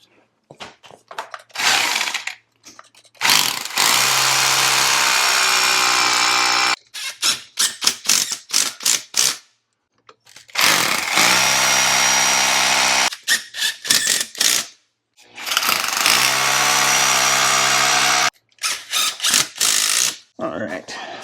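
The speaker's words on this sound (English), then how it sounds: "I'm gonna pre-drill them at an angle out from the bowl" Power drill with a 3/16 inch bit pre-drilling angled holes into a bathroom floor for Tapcon screws around a toilet flange, three long whining bursts of drilling separated by short pauses and ratcheting clicks.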